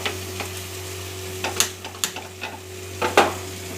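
Bhakur fish frying in oil in a pan on a gas stove, seasoned with salt, turmeric and mustard-cumin paste, gives a steady soft sizzle with a low hum beneath and a few sharp spatters and taps.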